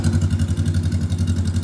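A Honda Rebel 500 motorcycle idles close by, its engine and exhaust giving a steady low, throbbing pulse with a regular rhythm and no revving, heard alone throughout.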